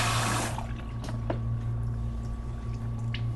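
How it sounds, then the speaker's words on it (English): Water rinsing shampoo from a client's hair at a salon sink, a rushing spray that starts strong and then settles into a steady hiss and gurgle, close by, with a low hum beneath. "now that we see the water is rinsing clean, there's no suds in the water"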